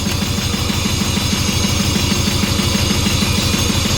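John Deere 650 diesel tractor engine running, a steady rhythmic low chugging idle with constant vibration, close and loud throughout.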